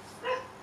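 A single short dog bark, faint and somewhat distant, rising briefly out of quiet background.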